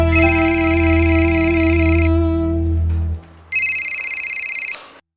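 A telephone rings in a TV drama, two loud electronic ring bursts separated by a short pause, clear and close with no talking.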